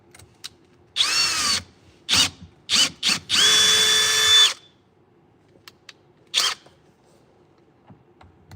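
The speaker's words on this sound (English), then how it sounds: "Dull ass drill bit." A power drill with a dull bit whirs in several short bursts, then one longer whining run, with brief pauses between each spurt, drilling a Lokar floor shifter knob.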